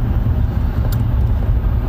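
Mercedes-Benz S550 W221 S-Class with a 388 hp engine cruising on the Autobahn, a steady low, full-bodied road and engine rumble heard from inside the car, continuous and fairly loud, with no talking.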